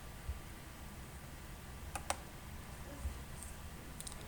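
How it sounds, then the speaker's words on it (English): A mouse clicks on a computer running Windows Server 2016: a quick pair of faint, sharp clicks in the middle, then another light tick near the end, over a quiet steady room hum. "I click on it."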